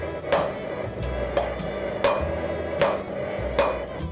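A blacksmith's hammer strikes hot steel on an anvil while forging a taper for a bottle opener, six ringing blows spaced about every three-quarters of a second, each with a bright metallic ping.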